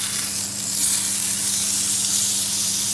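Steak sizzling loudly in a hot pan just after being flipped, a dense continuous hiss and crackle close up with no voices over it.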